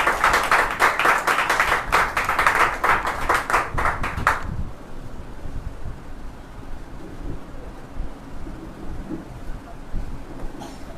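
Loud applause from a congregation at a Christian fasting prayer meeting for leaders, dense clapping for about four seconds before it cuts off abruptly into quiet room murmur.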